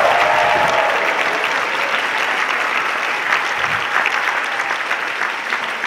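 Sustained applause and cheering from a concert audience after a piano performance, loud and dense, filling the whole stretch without pause.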